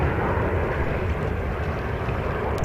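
An Embraer E175LR airliner at JFK airport gives off a loud, steady engine roar, close and unbroken, heavy in low rumble, with no voices.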